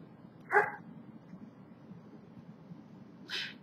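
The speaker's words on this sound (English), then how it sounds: "there is a dog barking in the background" A dog barks twice in the distance, single sharp yaps several seconds apart over a quiet room hum.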